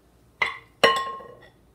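Stirring butter in a bowl for banana bread gives two bright clinks of a spoon against the bowl, the second ringing longer, close and clear in a quiet kitchen.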